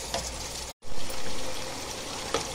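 Water is poured into a pot of mutton being cooked down, a steady splashing gush interrupted by a short gap, then continuing until the end.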